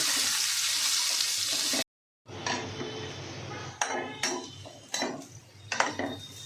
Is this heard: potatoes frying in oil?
yes